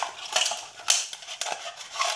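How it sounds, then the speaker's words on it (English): ZT 801 knife blade cutting through an aluminium Coke can, faint scraping and crinkling metal with a few sharper clicks and snaps, close by and quiet. "So I'm gonna go and do something else that my SMG did really easily, which is cut a Coke can"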